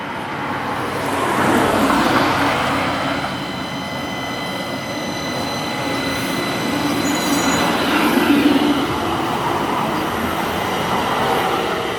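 Pittsburgh light rail train at Belasco station rumbling steadily along the tracks, a continuous loud drone of wheels and motor with faint high squeals layered on top throughout.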